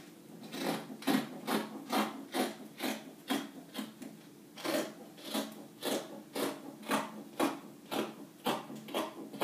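Scissors cut through blouse fabric along the back armhole in a steady run of close, crisp snips, each a short rasping crunch repeating about twice per second with no talk.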